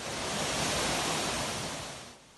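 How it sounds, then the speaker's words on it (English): Water gushing over the rocks at Somerset Falls, a waterfall in Hope Bay, Portland, Jamaica, heard as a loud, steady broadband rush that holds throughout and then eases off slightly near the end. "Water gushing through the rocks at SOMERSET Falls in Hope Bay, Portland once again."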